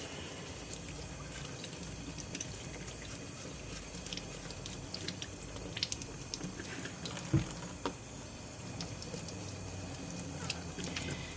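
Tap water runs into a kitchen sink used for washing produce, a soft, steady wash of flowing water that continues alone at a fairly low level.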